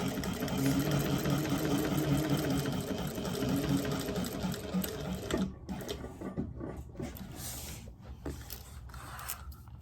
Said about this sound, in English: I'm not worried about my machine sewing it because it's a big machine